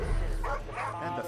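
A dog in the video game Far Cry 5 gives a quick burst of close, loud barks and yips, with a voice talking over it.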